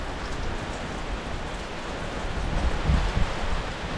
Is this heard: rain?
yes